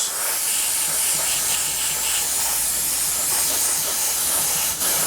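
An airbrush sprays a third coat of paint onto the wing of a 1/48 scale Tamiya Supermarine Spitfire Mk.I model, giving a loud, continuous close hiss with a brief dip near the end.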